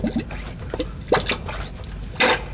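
Gear oil drips and trickles into the rear differential of a Ford Ranger. The wet sounds are close and come in irregular bursts, each with a short splashy surge. No one speaks.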